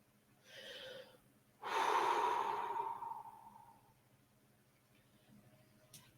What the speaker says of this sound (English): so just get quiet and breathe in and breathe out